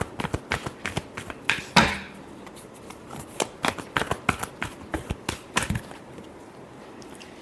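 Tarot cards being shuffled by hand make a rapid series of crisp, close slaps and riffling taps in an uneven rhythm, fairly loud and with no other sound.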